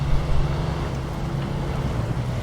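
Truck engine pushing through deep water in SnowRunner, a steady low rumbling churn with washing, wind-like splashing noise throughout, loudest in the opening moments.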